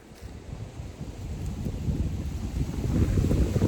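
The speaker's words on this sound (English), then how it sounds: "Oh, this wind's gonna blow me off this ridge here." Strong wind buffets the microphone on an exposed Appalachian Trail mountain ridge, a steady roaring rush with low gusty rumble that builds louder toward the end, heard alone with no talking.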